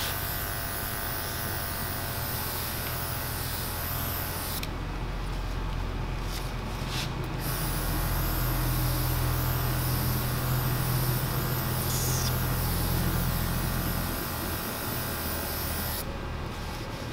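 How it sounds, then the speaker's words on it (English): An airbrush sprays dark brown paint onto a backpack with a steady, close hiss that runs almost the whole time, broken by two brief gaps. "Safety tips with an airbrush."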